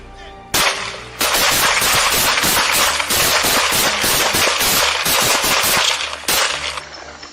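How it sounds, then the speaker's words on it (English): Sustained gunfire in a played video, a dense run of rapid, sharp shots in close succession after an opening bang, loud and continuous with brief gaps, and no voices. "multiple rounds of gunfire ringing out from both sides"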